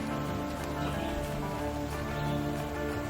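Steady rain falls at Garden of the Gods in Shawnee National Forest, southern Illinois, a constant dense patter spread evenly across the whole stretch with no voices.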